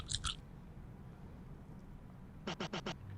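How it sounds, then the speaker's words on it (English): Short squishy chewing bursts from hungry furry animals in a cooking game, a brief cluster at the start and four quick rhythmic munches near the end, faint over a low background hum. "That's just chewing noises."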